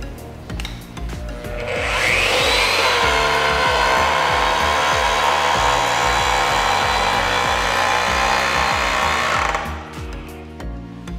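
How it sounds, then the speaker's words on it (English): A digital tube bending machine bends a metal pipe, its motor holding a steady, loud mechanical whir with grinding and creaking overtones for about eight seconds before winding down and stopping. "Press the trigger switch and hold until the pipe is bent to the desired angle."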